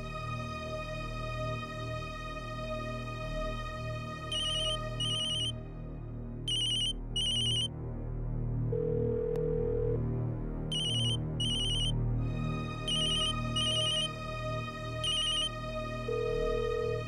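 A phone ringtone rings unanswered, repeating electronic tone bursts in a regular pattern for the whole stretch, clear and steady above a low hum.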